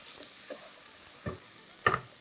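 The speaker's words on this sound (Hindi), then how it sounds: "a quick stir" A few soft, scattered scrapes and clinks as vegetables for pulao, carrots and beans with salt, are stirred quickly in a pan, faint and close, with one sharper clatter near the end.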